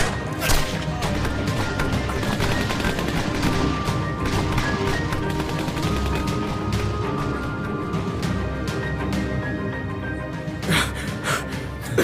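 Sharp gunshots crack out in a tense armed standoff, scattered irregular bangs and impacts over a rumbling, busy background, fairly close and loud with no clear talk.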